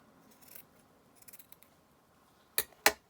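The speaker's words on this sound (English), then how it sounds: "And then I'm just going to trim it off here at the top." Scissors trimming lace fabric for a bellyband, faint soft snips at first, then two crisp close cuts near the end, in an otherwise quiet room.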